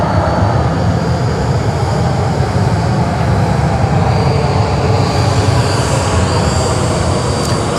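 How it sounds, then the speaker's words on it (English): An Emirates Airbus A380 taxies along taxiway Golf 1 toward Bay 61 at Sydney Airport, its engines giving a steady, loud broadband roar with a faint high whine that holds constant throughout. "So our beautiful Emirates A380 just heading for Bay 61 there on taxiway Golf 1"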